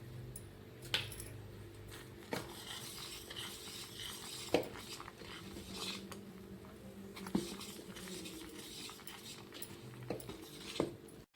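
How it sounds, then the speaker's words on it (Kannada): Fermented navanakki dosa batter stirred with salt, a faint soft squelching with a few light spoon clinks against the vessel at irregular intervals, quiet and close. "ಸ್ವಲ್ಪ ಉಪ್ಪು ಹಾಕಿ ತಿರುವಾಡ್ತೀವಿ ರೀ."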